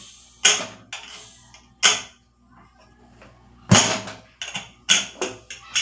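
Several sharp bursts of hissing steam from a pressure cooker, loud and close, released in short spurts with pauses between them.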